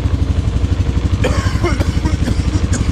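A Polaris Sportsman 570 HO EPS ATV engine idles in a cluttered garage in winter, a steady, close, even rhythmic putter throughout, with some brief clatter and faint background noise in the middle.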